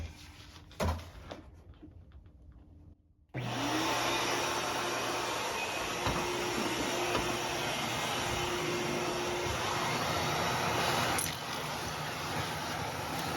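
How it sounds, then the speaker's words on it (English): A faint click and quiet room tone, then a vacuum cleaner switches on with a sudden roar and runs steadily, its whine holding loud and close. "we're turning the vacuum on"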